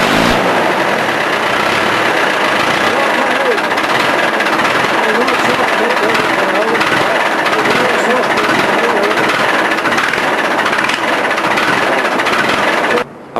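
A David Brown Cropmaster tractor engine runs steadily at idle, a loud, even, chugging drone close by for the whole stretch, with a voice talking over it.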